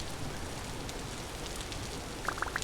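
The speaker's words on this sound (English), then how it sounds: "I do love the rain" Steady rain in the survival game Vintage Story, a soft continuous hiss filling the scene with a few brighter drips or taps near the end, heard alone without talk.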